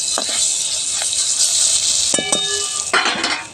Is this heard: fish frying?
yes